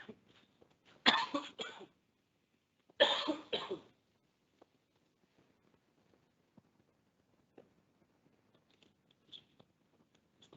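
A person coughing in two loud, close bursts, followed by quiet with faint small noises.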